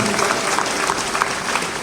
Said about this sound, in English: Please give a clap for Bishop Stephen.